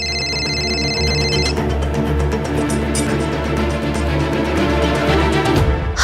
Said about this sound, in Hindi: कोयल दी का फोन।